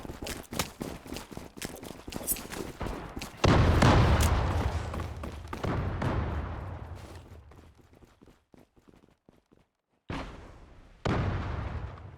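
A grenade blast in the shooter game Zula, preceded by rapid gunfire, then a heavy booming explosion that rumbles and fades, followed by more scattered shots and another burst.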